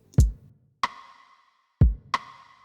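A deep kick thump followed by a sharp, ringing rim-shot snare with a reverb tail, the kick-snare pair repeating twice alone, in a chill pop beat made in Studio One 5.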